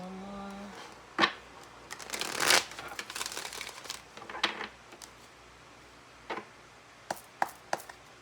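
A deck of tarot cards is shuffled by hand in short crisp riffles and snaps, a few close bursts followed by scattered single card taps, with no talking.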